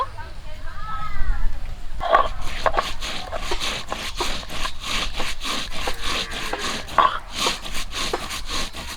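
Raw chicken being cut for a lemon-leaf curry: repeated rough scraping and chopping strokes in a steady rhythm, fairly close and loud, after a short stretch of talking at the start.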